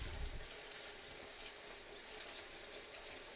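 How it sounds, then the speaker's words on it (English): Water from a bathtub tap running into a bowl, a steady soft gushing flow heard alone throughout at moderate distance. "I'm just waiting for the water bowl to fill up"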